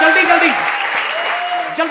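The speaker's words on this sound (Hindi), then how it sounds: "ठोको ताली।" Studio audience applause on a Hindi TV comedy stage show, a steady dense wash of clapping lasting the whole moment, with a host's voice and other voices talking over it.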